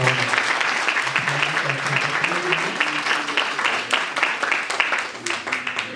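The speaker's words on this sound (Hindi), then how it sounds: "परमेश्वर के दास को एक बार जोर से तालियों के साथ" Loud, dense audience applause fills a gathering of Christian families at a BJP party office, steady and close throughout with many hands clapping at once and some voices mixed in.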